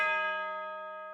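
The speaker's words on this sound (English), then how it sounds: "And I layered the piano with this cool little bell tone hit." A single bright, sustained bell tone hit, layered over a lo-fi piano in a hip-hop beat, rings clearly and alone, its harmonic overtones decaying slowly over about a second.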